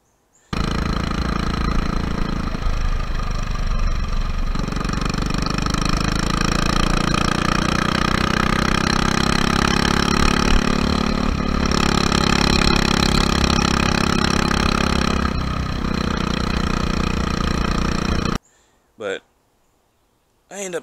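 A go-kart's newly installed small engine running steadily, a loud close-up drone with slight pitch shifts as the throttle changes, sustained before cutting off abruptly near the end, followed by brief quiet clicks.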